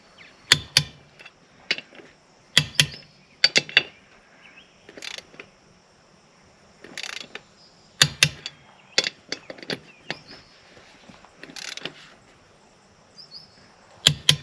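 A torque wrench set to 100 foot-pounds tightens a wheel on a Kubota tractor with a flat tire, producing sharp metallic clicks and ratcheting snaps in scattered bursts against a quiet background.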